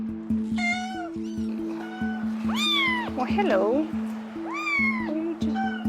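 Several cats rescued from a trailer park meow repeatedly at an animal shelter, loud and close with rising and falling cries, while a person speaks briefly over them and a steady low hum runs underneath.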